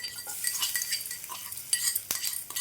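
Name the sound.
garlic and spices being stirred while frying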